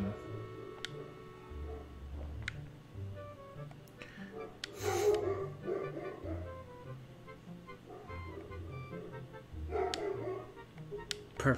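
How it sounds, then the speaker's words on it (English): A dog in The Legend of Zelda: The Wind Waker barks in two short, excited bursts several seconds apart, set against quiet background game sounds. "Of course, the dog will go crazy."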